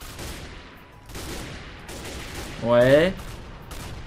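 Blank rounds cracking in a military roleplay video game, a short burst of firing that rises briefly over steady background game noise and a talking voice.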